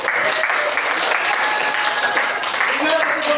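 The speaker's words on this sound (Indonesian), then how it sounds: "tepuk tangan lagi" Applause from an audience at a school civics (PKn) presentation session, steady clapping filling the room throughout with voices murmuring underneath.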